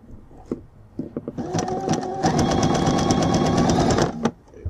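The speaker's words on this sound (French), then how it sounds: "Et je couds autour de mon élastique tendu au max." A sewing machine runs a zigzag stitch around elastic stretched tight, starting with a few short bursts and then settling into a steady, close, loud mechanical whir for about two seconds before it stops.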